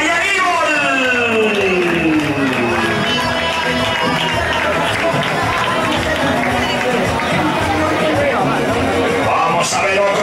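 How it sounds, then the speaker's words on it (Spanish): Spectators at the Viloria 2015 race finish line applaud arriving runners, steady clapping and crowd noise held at a constant level beneath an announcer speaking Spanish over a loudspeaker. "Ese aplauso fuerte también para Davisa"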